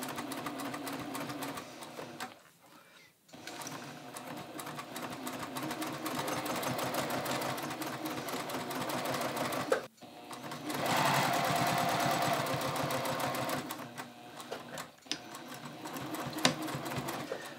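A sewing machine stitches a fabric seam in a long, steady mechanical whir with rapid needle clatter, pausing briefly twice before running on again, close and alone without talk.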